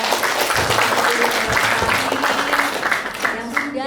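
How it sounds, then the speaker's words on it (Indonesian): Audience applause at a student biology podcast talk show, a sustained wash of clapping and crowd noise lasting several seconds with a few voices mixed in. "beri aplaus lagi dong"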